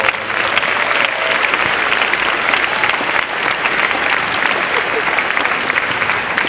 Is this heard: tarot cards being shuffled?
no